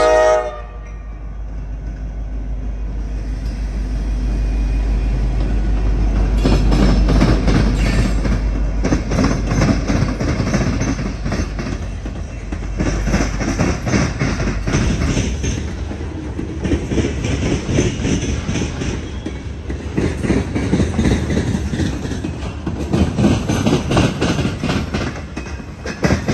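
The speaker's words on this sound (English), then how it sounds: "All covered hoppers today with a solo SD40E doing the honors." Freight train L11 of covered hoppers, led by a solo SD40E locomotive, rolls past in northern Ohio: a loud horn blast at first, then a long steady rumble with rhythmic clickety-clack of the cars passing close by.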